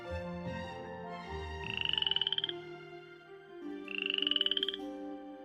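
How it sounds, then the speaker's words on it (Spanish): Poison dart frog (Dendrobates) in the Amazon rainforest giving two short, rapid pulsed trilling calls, each about a second long, clear over a steady background of insects and forest hum. "Entre ellas destaca la rana dardo venenosa, conocida científicamente como Dendrobates"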